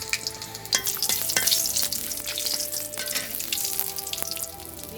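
Whole spices such as bay leaf, cinnamon, cardamom, cloves and black pepper frying in hot oil for a pigeon meat curry, a loud steady sizzle and crackle with close clinks of a stirring spoon.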